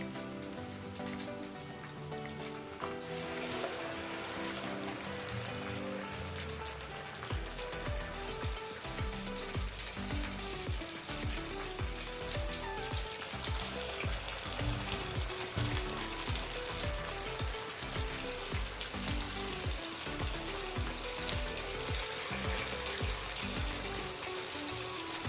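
Sago vadas deep frying in hot oil, a dense steady crackling sizzle that runs continuously under a rhythmic background beat, with no voices.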